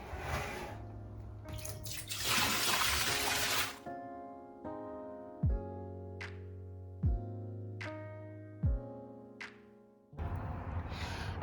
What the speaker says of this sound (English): I'll pour out this water and then rinse the locks